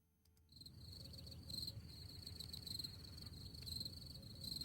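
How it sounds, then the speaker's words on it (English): Crickets chirp outside in a steady, high, pulsing trill that starts after a brief quiet moment and carries on, faint and even, with no voices. "Crickets are outside."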